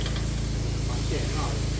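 A Yanmar engine on a three-system crop sprayer vehicle at a vehicle show in Phichit runs with a steady, close droning hum, and someone speaks over it.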